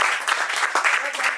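Audience applause at a Hindi poetry reading, a dense patter of many hands clapping steadily, close and fairly loud for the whole stretch.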